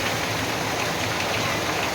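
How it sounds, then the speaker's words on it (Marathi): Heavy rain pouring down at midnight, a loud, continuous, unbroken roar of drops hitting surfaces with no pauses and no voices. "कसला आवाज आहे पावसाचा किती पाऊस पडतोय"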